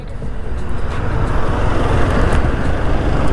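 A TVS Apache RTR 160 motorcycle ridden fast with a passenger aboard, a loud steady roar of engine and wind rushing throughout, with no clear pauses or gear changes.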